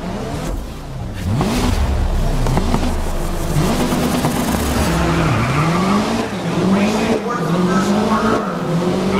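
Race car engines in Grid 2019 roar and rev continuously with rising and falling pitch sweeps as several cars accelerate off the start, loud and sustained throughout.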